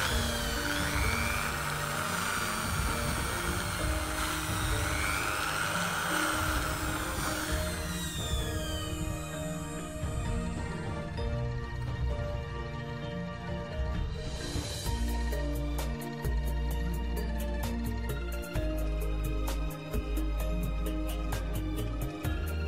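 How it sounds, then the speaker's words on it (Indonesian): A small power drill bores a hole into a handmade cigarette pipe, a continuous whirring drone that runs steadily with rising and shifting pitch, close and loud, with no talk. "Kita bor dulu ya."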